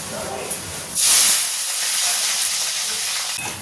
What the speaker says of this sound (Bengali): এখানে পনির আর ক্যাপসিকামটা ভাজা হয়ে গেছে